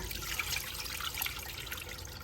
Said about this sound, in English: I will add some water to cook it.